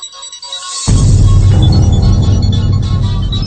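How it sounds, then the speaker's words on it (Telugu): A mobile phone rings loudly with a bright electronic ringtone that plays a full melody on its own, with no talk over it. "శైలు ఫోనా?"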